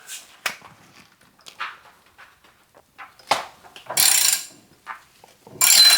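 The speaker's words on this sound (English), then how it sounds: "Now these are going to be very tight, so you might want to use a longer ratchet." Ratchet with an 18 mm socket working on tight caliper bracket bolts of a Chevrolet Colorado or GMC Canyon, heard as a few short sharp clicks and knocks, then two louder rasping bursts of ratcheting near the end, close and alone.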